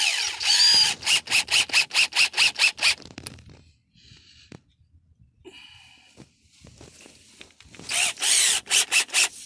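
A power drill drives an outdoor wood screw into the timber of an inline hay feeder, loud rapid pulsing bursts of whirring at the start and again at the end, separated by quieter handling noises.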